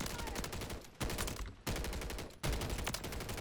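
Rapid automatic gunfire in Call of Duty: Warzone, loud and close, coming in three or four sustained bursts separated by brief gaps.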